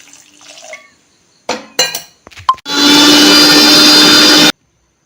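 About half a glass of water poured into a mixer grinder jar, preceded by a few close glassy clinks and knocks, then a loud steady rushing pour lasting about two seconds that stops abruptly, with no talking.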